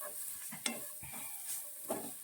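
Crushed black pepper stirred into a stew simmering in a pan: quiet sizzling under a few short scraping stirs and faint utensil clicks, with no voices.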